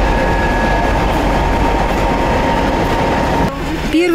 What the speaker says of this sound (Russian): Первый туристический поезд Уфа-Ульяновск прибыл в наш город.